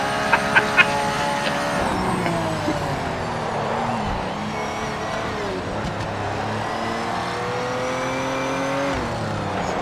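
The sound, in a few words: race car engines in Project Motor Racing video game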